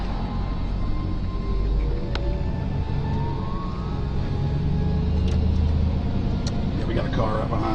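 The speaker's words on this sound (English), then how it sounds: "Car right behind us." A car drives along a road with a steady, loud engine and tyre rumble heard from inside the vehicle, continuous throughout, with a faint siren-like tone rising in the middle and people talking over it.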